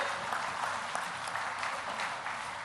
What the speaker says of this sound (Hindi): तो एक बार जोरदार तालियां बजानी चाहिए।